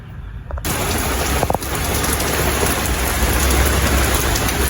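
A summer downpour with thunder bursts in after a brief quiet start: loud, dense rain pounds continuously, and a low rumble of thunder rolls beneath it, with no voices.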